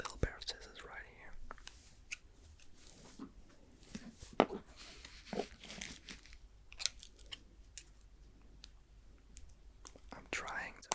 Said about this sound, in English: So I'm going to open the plastic